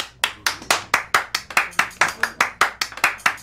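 A room of students claps in welcome for a psychology student who has just introduced herself, about fourteen crisp claps in a steady, even rhythm, fairly close and loud with no talking.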